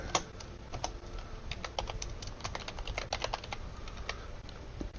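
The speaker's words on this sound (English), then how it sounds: "I'm just typing them in." Quick, uneven clicks of fingers typing on a computer keyboard, close up and steady, with faint room noise and no speech.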